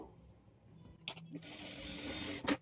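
A sewing machine stitches lining onto a blouse in short runs: a quiet start, a brief whir, then a louder sustained mechanical stitching burst ending in a sharp clack, close by.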